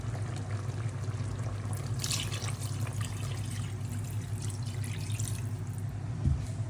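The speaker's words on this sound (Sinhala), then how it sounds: "දැන් මම වතුර ටිකක් දාන්නයි හදන්නේ." Water pours into a pot of thalapath fish curry: a quiet trickle and splash with a couple of brief gushes over low background hum, no talk.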